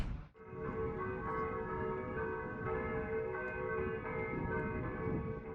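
A bell tower in Hamilton County, Indiana rings at night, producing one sustained, resonant tolling tone that starts with a strike and then hums steadily, heard alone and without voices.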